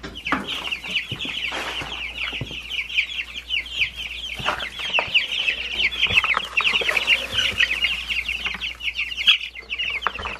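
A flock of backyard chickens, meat birds and young egg layers, clucks and chatters continuously at close range, with busy overlapping calls and occasional sharper squawks throughout.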